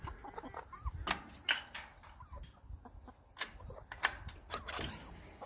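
Backyard chickens let out of a hoop coop on a Texas farm cluck and chatter in irregular bursts, several birds close by over a quiet outdoor background.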